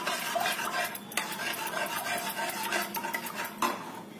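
Rava ladoo mixture with crushed cardamom being stirred in a pan off the heat, repeated gritty scraping strokes and occasional metallic knocks of a spoon against the pan, steady and near.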